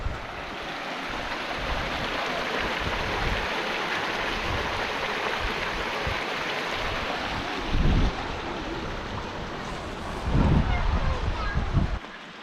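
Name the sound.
waterfall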